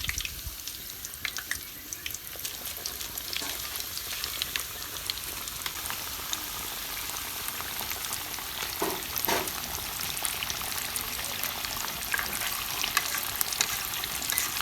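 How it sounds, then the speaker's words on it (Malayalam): Food dropped into hot cooking oil sizzles and crackles loudly and steadily throughout, a dense close-up frying hiss with no talking. "എണ്ണ ചൂടായി, നമുക്കിത് ഇട്ട് കൊടുക്കാം എണ്ണയ്ക്കകത്തോട്ട്."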